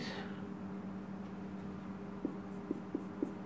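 Chalk or pen writing by hand during a maths lesson, heard as a few faint, quick tapping strokes over a quiet room hum near the end.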